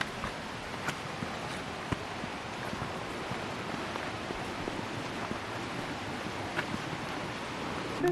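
Chenku waterfall in Dodowa, Ghana, rushing steadily with a broad, continuous roar of falling water that stays even and fairly loud throughout, with no one speaking.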